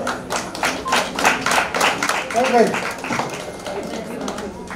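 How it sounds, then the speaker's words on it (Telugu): A crowd at a prize-giving ceremony claps steadily, a scattered patter of applause heard alongside background voices and murmuring. "చప్పట్లు."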